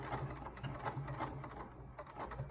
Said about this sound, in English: do a stitch back and forth so that it's secure.